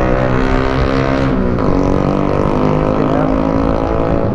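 A 2019 Yamaha NMAX facelift scooter engine during a test ride, a loud continuous droning roar with heavy wind noise, steady throughout.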